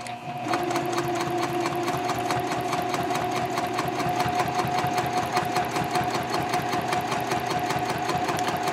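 A sewing machine runs steadily, stitching across the bottom of a messenger bag pocket, its rapid mechanical hum continuous and close for the whole stretch with no talking.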